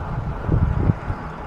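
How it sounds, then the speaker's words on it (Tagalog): Strong wind buffets the microphone in low, rumbling gusts during a gravel cycling race in Talavera, Nueva Ecija, swelling in the middle and easing off toward the end. "malakas talaga yung hangin"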